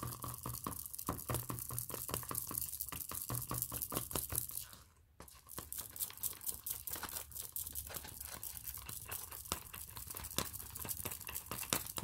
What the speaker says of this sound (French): Il faut bien mélanger